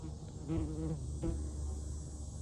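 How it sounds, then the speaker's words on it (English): Steady insect buzzing fills the clip, a close, continuous drone with slight swells, like bees hovering nearby, with no talking. "there's so many bees"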